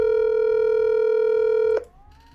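A steady, loud telephone tone sounds for nearly two seconds, then cuts off with a click into a faint, quieter line noise.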